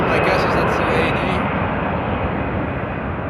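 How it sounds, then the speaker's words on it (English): A Boeing 787 Dreamliner jet at Frankfurt Airport roars loud and steady as it passes close by on runway 18 West, a dense continuous rumble that fills the whole moment, with some faint higher hiss at the start. "Dreamliner coming this way"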